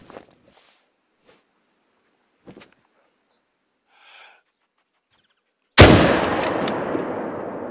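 A single rifle shot in the hunting game The Hunter: Call of the Wild cracks loud and close after a few quiet seconds of soft footsteps and breathing, then a long echoing tail rolls away.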